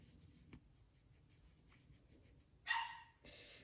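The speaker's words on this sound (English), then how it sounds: "my dog's so funny. She does not stop." A dog barks indoors in a quiet room, a few faint distant yips followed by a louder, sharper bark burst near the end, with soft background noise between.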